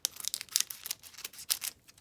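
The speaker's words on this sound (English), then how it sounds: "these packs want to rip right down the center" A 1991 Studio baseball card pack wrapper is torn open, giving quick crinkly ripping and crackling bursts over two seconds, fairly faint and close with no talk.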